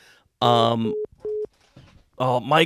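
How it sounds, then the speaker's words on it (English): Steady electronic telephone busy tone after a dropped call, two short flat beeps separated by a gap, set between loud bursts of speech on a sports talk show. "call dropped again"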